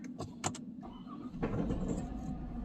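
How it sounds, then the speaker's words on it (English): A 2015 Kia Sorento that misfires and smokes is started from the driver's seat, with a few clicks and rattles, then a long, steady engine crank building into a continuous rumble, heard close with no talking. "this car takes a really long time to crank over"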